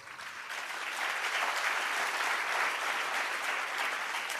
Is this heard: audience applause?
yes